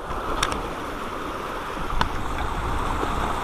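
Rushing floodwater in grassland pours in a steady, moderately loud broadband rush, with a few faint clicks and knocks over the constant flow and no talking.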